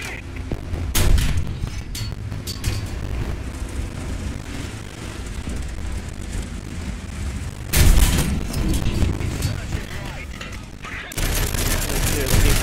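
Rapid bursts of gunfire and booming explosions come from a War Thunder battle, dense and loud throughout with abrupt swells, while a voice talks over the combat.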